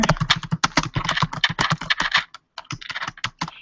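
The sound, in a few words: typing on computer keyboard into chat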